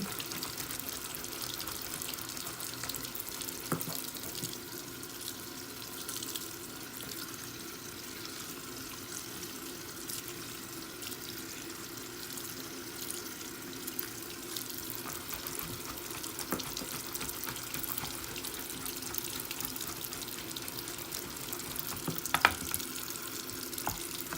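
Makeup brushes being washed by swirling them on a textured cleaning mat at a sink, with water running steadily and a soft, continuous wet swishing throughout, close by and without talk.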